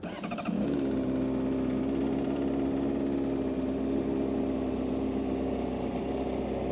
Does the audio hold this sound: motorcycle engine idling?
yes